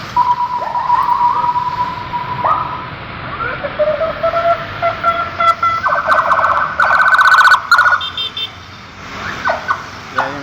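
Police siren wailing on a street while walking to an event, a steady rising and falling tone with a faster yelping burst midway, fairly loud and close with crowd noise around.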